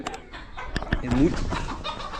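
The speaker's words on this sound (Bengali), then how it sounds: "মুরগি যদি দেখাই, আমাকে দেখে ভয়তে চলে গেল এরা" Chickens on a pigeon farm give brief clucks and a short squawk, close and moderately loud, with faint human voices in the background.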